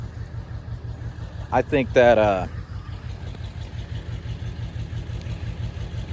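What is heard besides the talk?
old truck engine running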